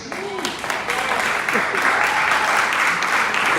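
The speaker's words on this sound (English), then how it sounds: "let's give a round of applause to all of our candidates" A crowd at a candidate forum applauds steadily, dense clapping building and holding, with some voices mixed in.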